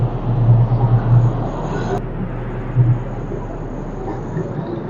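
Heavy trucks rumbling past on a busy road near Manila North Center, a constant low roar of traffic with a couple of louder swells as vehicles go by, with faint talk underneath.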